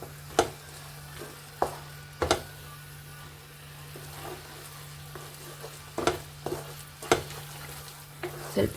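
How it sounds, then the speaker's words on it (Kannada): Mango laddu mixture with milk powder being stirred in a pan: a steady low hum under scattered scraping and tapping strokes of a spoon against the pan, fairly quiet, with no talking. "ಇವಾಗ ಮಿಲ್ಕ್ ಪೌಡ್ರ್ ಹಾಕಿ ಸೇರಿಸ್ತಿದ್ದೀನಿ."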